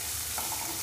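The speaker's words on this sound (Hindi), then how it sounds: "अब डाल देंगे यहाँ पे हम प्याज, तो प्याज को भी हम भून लेते हैं" Onions frying in a pan after garlic, giving a steady, dense close sizzle throughout a brief moment.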